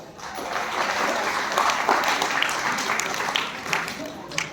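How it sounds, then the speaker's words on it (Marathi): A crowd at a school annual gathering and prize-giving claps together in a dense, sustained burst of applause that holds steady for a few seconds, with some voices mixed in. "त्यांच्या अभिनंदनासाठी आपण 3 टाळ्या वाजवाव्यात।"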